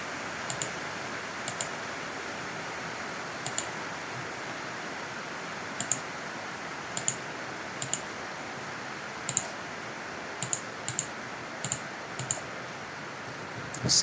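Sparse, irregular mouse clicks from modeling work in Revit 2023, sharp and faint, spaced a second or more apart over a steady hiss with no talking.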